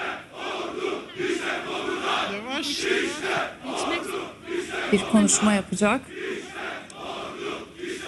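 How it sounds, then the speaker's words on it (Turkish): A large crowd chants in unison at a funeral ceremony for those killed resisting a coup attempt in Turkey. The rhythmic massed voices are fairly distant, and a man's speech comes through over them. "Tezahürat sesleri kesildiği anda başlayacak."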